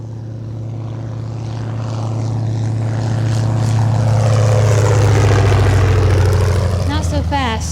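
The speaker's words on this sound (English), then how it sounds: "Here comes a bush plane." A bush plane's propeller engine approaches over the Arctic, its droning hum steadily growing louder and closer, with a smooth rising pitch as it nears.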